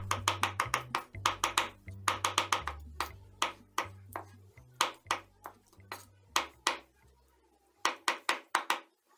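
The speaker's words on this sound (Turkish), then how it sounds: "Domatesleri doğruyorum. Çok fazla öldürmüyorum, bıçak darbeleriyle yaralıyorum." A knife chops tomatoes on a cutting board in quick bursts of sharp knocks. The rhythmic clusters of strikes are separated by short pauses, close and crisp, with a longer gap near the end before the chopping resumes.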